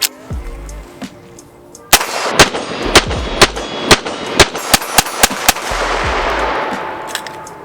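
A CZ Shadow 2 pistol emptying a 10-round magazine outdoors: a string of loud, sharp reports fired in quick, steady rhythm, each shot ringing on briefly, following a metallic clack and handling noise.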